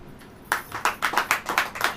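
An audience at a church sermon claps in a short burst of about seven sharp, fairly loud hand claps in an uneven rhythm, starting after a brief quiet moment.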